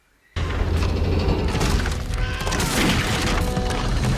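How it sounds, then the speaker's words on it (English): Scene from the film Titanic: a sudden, loud, sustained barrage of sharp cracks and heavy booms, like gunfire, that starts abruptly and continues densely without pause. "They sound like gunshot sounds."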